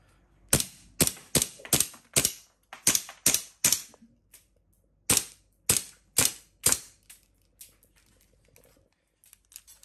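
A black R30 gas blowback airsoft pistol styled after a Colt M1911 Wilson Combat fires a string of sharp, snappy cracks in quick clusters, fading weaker toward the end on a cold magazine in winter.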